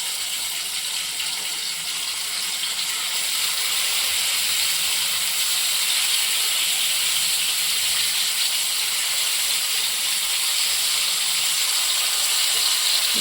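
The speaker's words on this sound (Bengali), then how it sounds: "আমি এখন একটা একটা করে মাছ দিয়ে দিচ্ছি" Pabda fish frying in hot oil in a nonstick pan, a steady hissing sizzle that swells slightly after a few seconds and then holds constant, close and fairly loud, with no one speaking.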